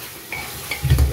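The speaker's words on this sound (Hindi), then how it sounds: "प्याज भुना जा रहा है अभी।" Onions for a Pahari chicken curry masala fry in a pan, a quiet sizzle under soft scraping stirs that swell into a louder stir near the end, with no voices.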